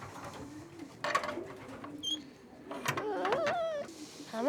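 Racing pigeons in a quarantine loft give soft, low, rolling coos, several overlapping calls close by but faint, with rustling and a few brief sharper noises between them.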